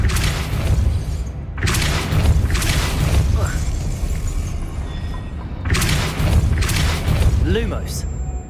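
A Depulso spell cast in the video game Hogwarts Legacy makes several loud, broadband whooshing blasts in quick succession over a continuous low rumble of game ambience.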